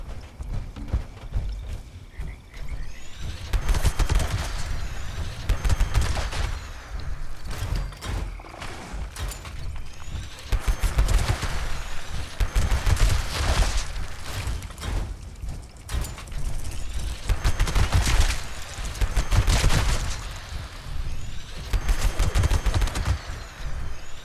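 A Pepper Shaker gun fires in the video game Fallout 76 in repeated rapid bursts of loud, clattering shots, broken by brief pauses.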